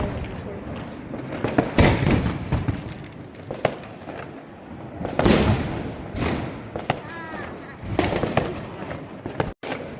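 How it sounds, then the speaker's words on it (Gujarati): Diwali firecracker bombs and sky-shot fireworks burst outdoors, sharp loud bangs and thuds spaced irregularly with crackling between them, near and far, while people talk in the background. "આ છોતરી બોમ્બ ફોડતા આવડી ગયું"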